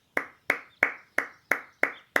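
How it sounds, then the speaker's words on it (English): Seven slow, evenly spaced single hand claps, about a third of a second apart, sharp and close with silence between them. "No applause is necessary"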